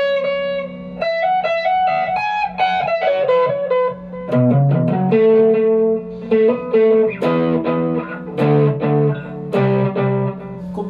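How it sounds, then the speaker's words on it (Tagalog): Electric guitar played through a delay effect, melodic phrases of notes and chords with echoing repeats trailing after each attack, loud and alone with no voices. "Meron kang maririnig na delay effect."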